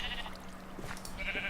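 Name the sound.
sheep bleating in a video game (Evil Genius craft)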